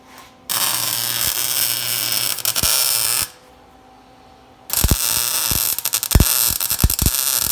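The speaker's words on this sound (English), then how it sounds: "Alright, I'm grinding it." An angle grinder cleans up a section of a Toyota frame at a bad body-mount repair, with loud close whining bursts, one stopping for about a second and a half before the tool starts again amid sharp clanks.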